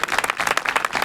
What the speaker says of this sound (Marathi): आपण टाळ्या वाजवूया